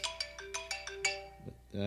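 An incoming call sets off a phone ringtone, a quick run of bright repeating electronic tones heard close by. A voice begins at the end.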